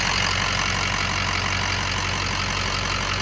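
A Ford 6.0 Powerstroke diesel V8 in a Super Duty truck idles close up, a loud, steady, unbroken rumble with a constant low hum and no voices over it.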